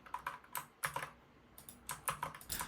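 Keys on a computer keyboard are pressed in irregular quick bursts of close, crisp clicks separated by brief pauses, with no one talking.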